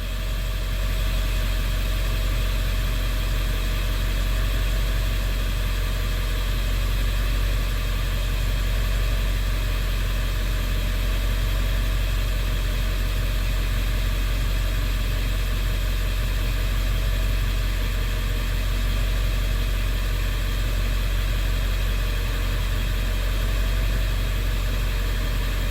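A 7.3 Powerstroke diesel truck engine idles while running on pure Seafoam injector cleaner, giving a steady, loud, unbroken rumble with a constant low throb and no voices throughout.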